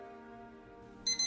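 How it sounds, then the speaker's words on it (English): An alarm clock gives two shrill, high electronic beeps in quick succession right at the end, rising sharply out of a quiet, sustained musical drone. "Core Novason's alarm clock began to beep at him with a shrill, irritating cry"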